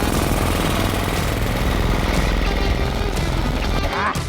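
Hot rivets being hammered, with a loud continuous pneumatic rattling din that runs throughout the clip, briefly broken near the end.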